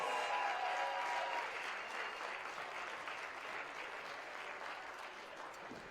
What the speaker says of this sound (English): please, a round of applause for our three athletes right there as they share that top podium space